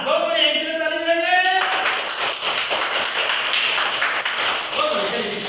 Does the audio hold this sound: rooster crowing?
no